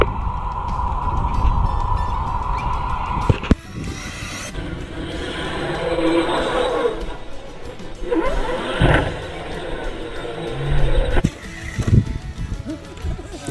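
An ARRMA Notorious 6S BLX 2021 V5 RC car tears across sand at a park with a loud, steady roar of motor and spraying grit. A sharp crash hits early on, then the run continues with surging bursts.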